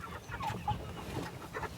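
Cornish cross meat chickens housed in a pasture tractor cluck and murmur close by, a few soft overlapping clucks in a short burst, with no talking.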